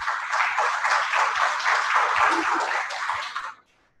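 An audience applauds to welcome a speaker at a university training session, a dense burst of clapping that holds steady for about three and a half seconds and then stops abruptly.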